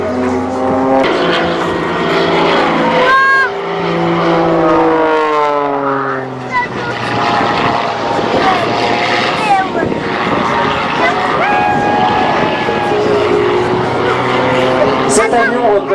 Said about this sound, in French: Cet avion représente ce qu'est la voltige aérienne moderne, des avions extrêmement légers, des moteurs surpuissants